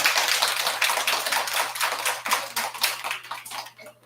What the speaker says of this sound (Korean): 큰 박수 한번 부탁드려요